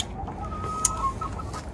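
Chickens at a deluxe coop on an off-grid homestead give a few soft, close clucks over a low rumbling background, brief and quiet with no talking.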